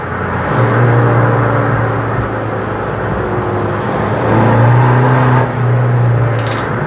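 A Seat Ibiza FR 6L PD130 diesel track car on sticky tyres is driven hard around a roundabout, its engine droning steadily up close, with the note swelling and rising as it accelerates out of the bend.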